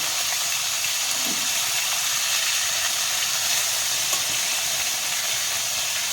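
Ban fish (eel) sizzle in plenty of hot oil in a wok, a loud, steady, bright hiss with faint crackles and no speech.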